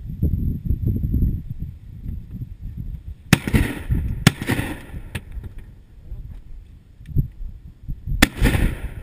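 Shotgun blasts at a duck hunt at Richmond Hunt Club in Illinois, three sharp cracks spaced a few seconds apart, heard outdoors over steady wind rumble.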